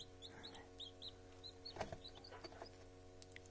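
Soft clucking from an Abyssinian ornamental hen mixed with many high, peeping Silver Wyandotte chick calls over a steady low hum, fairly quiet and close.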